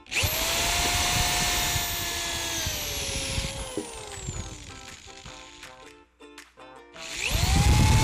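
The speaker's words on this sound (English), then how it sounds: "And you drill your pilot holes on the other side." A power drill whines steadily at high speed, its pitch sliding downward as it bites into wood drilling pilot holes for a wine rack, then stops briefly before spinning up loudly again.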